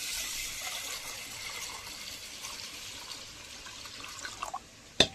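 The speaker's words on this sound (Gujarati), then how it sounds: "આપણે આમાં પાણી નાખી દઈએ," Water runs steadily onto basmati rice in a bowl to soak it, a soft continuous pouring hiss that ends with a few faint drips and a small clink.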